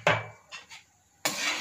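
Rice and milk for khir being stirred in a pot, with bay leaves and cardamom powder added, producing a sharp metallic scrape, two soft knocks, then a sustained louder scraping stroke.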